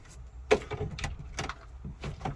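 Someone rattles and pushes at a locked door inside an abandoned care home, producing a series of short knocks, clunks and handle rattles at close range against a faint background hiss.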